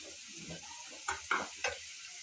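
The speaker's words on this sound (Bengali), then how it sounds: "এখন আমি মশলাটা দিয়ে দিলাম। এই দেখো, মশলা ভালো করে মিশিয়ে নিই।" Three short scraping, sizzling bursts of a spoon stirring spices into potatoes in a hot pan, with a quieter frying hiss between them.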